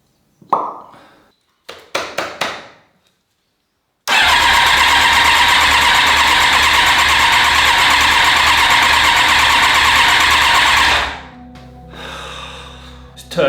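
A Yamaha YZF1000R Thunderace motorcycle under rebuild cranks on its starter after a few clicks, a loud, steady whirring close by for about seven seconds before winding down to a low hum.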